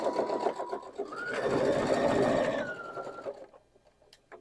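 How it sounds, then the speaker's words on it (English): A sewing machine stitches quilt block seams for a LeMoyne Star in one steady run. It whirs up to a sustained hum, then slows and stops, with no voices. "match up the raw edges, and sew those down"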